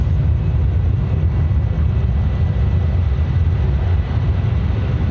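A Jetstar airliner rolls for takeoff on Sydney's runway 16 right, a loud, steady broadband jet roar filling the air without letup and no voices over it.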